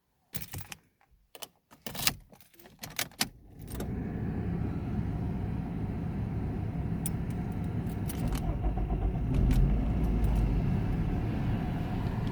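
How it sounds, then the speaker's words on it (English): A 2010 Toyota RAV4 being started: keys jangle and click in the ignition for a few seconds, then the engine catches and settles into a steady, close idle hum. "So I think I'm going to get it started now."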